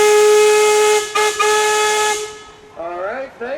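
A Gaar Scott steam traction engine's whistle blows loud and sustained at a pioneer days steam show, a steady tonal shriek with a brief stutter, then fading out as a voice speaks briefly afterward.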